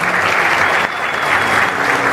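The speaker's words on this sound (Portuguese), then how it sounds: "A salva de palmas agora não vai ser para mim, não. Vai ser para vocês." Audience applause at a swearing-in ceremony, a dense, loud and steady clapping that fills the whole clip.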